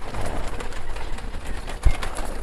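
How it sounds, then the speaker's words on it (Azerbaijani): Pigeons coo softly and steadily in a pigeon keeper's loft, a low murmuring drone with a brief knock near the end and no speech. "Maşallah yaxşı quşlar var."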